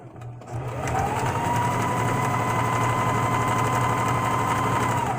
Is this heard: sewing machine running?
yes